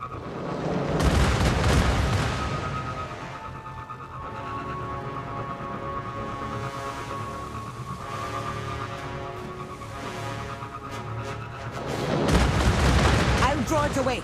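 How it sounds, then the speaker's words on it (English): In the video game Destiny Rising, a Goliath tank's cannon booms over gunfire and explosions, loud and rumbling, with sustained blasts at the start and end and game music underneath. "A Goliath tank. Watch out for its cannon."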